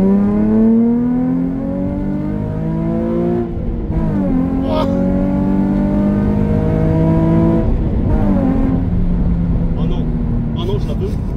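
A Nissan 350Z's engine accelerates through the gears from inside the car, loud and continuous, with steady rising revs, brief drops at each shift, and a voice talking over it at times.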